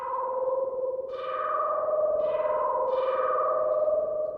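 A synthesized instrument built from turkey gobble samples in Ableton Live plays sustained, tonal notes washed in reverb, with three bright swelling phrases entering in a steady rhythm over a continuous droning layer.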